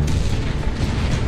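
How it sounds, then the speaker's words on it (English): An aircraft cannon in the combat flight game Project Wingman roars in one dense, continuous, loud rattle with a low rumbling boom throughout. "Using the gun in this game is so much easier than an ace."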